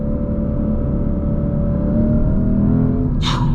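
A 2024 Lexus IS 500 F Sport Performance's engine accelerates, a loud steady drone with rising tonal harmonics heard from inside the car, ending with a brief hiss or whoosh near the end.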